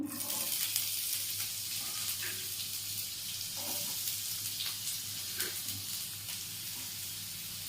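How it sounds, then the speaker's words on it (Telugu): Onions fry in hot ghee with a continuous, dense sizzle that holds steady and close throughout, dotted with small crackles and faint clinks. "సో గీ హీట్ అయింది, కొంచెం ఆనియన్స్ వేద్దాము."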